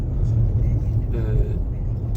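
A Mercedes EQB 250+ electric car coasts downhill with no accelerator on a road between Kastamonu and Cide, a steady low road and tyre rumble inside the cabin while someone talks.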